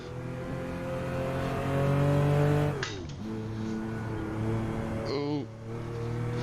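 A car on street tires in a sim racing game, engine droning steadily at high revs with sharp dips and climbs at gear shifts, loud and close, with no one talking.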